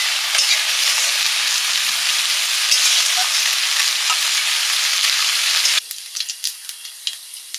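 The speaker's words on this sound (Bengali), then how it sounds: "চুনো মাছগুলো চচ্চড়ির জন্য ভাজছি।" Small chuno fish fry in hot oil, making a loud continuous sizzle that stops abruptly near the end, followed by scattered soft clicks and taps.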